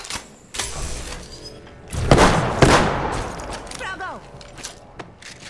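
Gunfire in Apex Legends, several loud booming shots and thuds in clusters with a dense burst in the middle, a short spoken callout, and scattered quieter shots trailing off toward the end.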